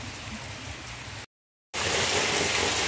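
Rain falls in Acopiara, Ceará, Brazil, on an afternoon, as a steady hiss of drops hitting surfaces. A brief silent gap cuts in partway through, and the rain returns somewhat louder.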